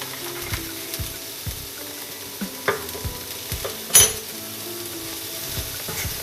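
Cauliflower filling with fresh coriander and salt fries in a pan while a spoon stirs it in repeated scraping strokes over a soft sizzle, with one sharper clatter midway.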